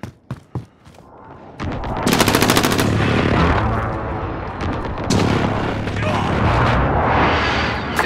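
Airstrike explosions and gunfire in Call of Duty: Modern Warfare on a sawmill map. A few sharp shots come first, then rapid machine-gun bursts and a long, heavy rolling blast of explosions, loud and close, with game voices mixed in.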